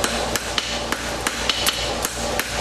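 A hammer strikes a welded horseshoe bar shoe about nine times in an uneven rhythm. Each sharp metallic clang rings close and loud over steady shop background noise.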